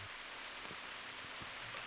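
Heavy rain falls in a steady, dense roar, with a few faint low thumps beneath it and no voices.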